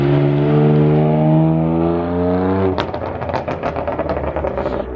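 A BMW M4 engine drones steadily with a strong harmonic tone for almost three seconds, then breaks into a loud, aggressive crackling rev with rapid pops to the end, close and unaccompanied by talk.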